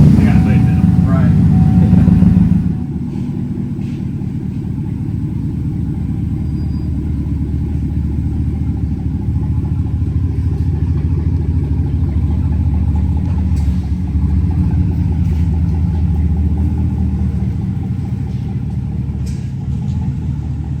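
Chevrolet Vortec Max truck engine running on a dyno in second gear, a loud steady rumbling drone that drops slightly after the first few seconds and continues evenly.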